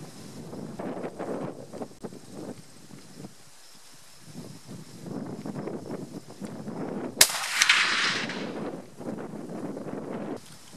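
A Remington Model 700 Ultimate muzzleloader firing a Barnes original bullet lets off one loud, sharp shot outdoors, followed by a brief rushing decay, amid steady wind buffeting the microphone.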